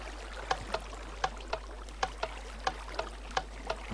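A Minecraft boat glides across water with a steady paddling rhythm, soft regular splashing clicks about three per second over a quiet watery background, with no voices.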